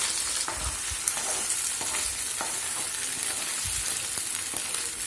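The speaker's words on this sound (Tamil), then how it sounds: "இந்த நெய்யிலேயே இந்த அரைச்சி வச்சுக்கிற கேரட் விழுத போட்டு ஒரு 2 செகண்ட்ஸ் கிண்டிக்கலாம்" Grated carrot sautés in ghee with a steady frying sizzle, broken by a few soft scraping stirs of a spoon against the pan, close and without speech.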